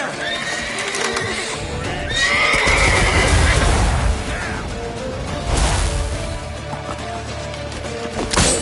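Horse whinnying in The Witcher 3 on PS5, mixed with shouting voices, clattering, and chaotic action noise; the loud neighs rise over a dense, busy background.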